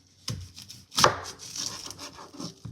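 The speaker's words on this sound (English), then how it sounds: "cut that up, pull off this outside layer. We're going to chop this up." A knife chops a sweet onion on a board, a few sharp close cuts followed by quicker, lighter chopping strokes, alone with no talk.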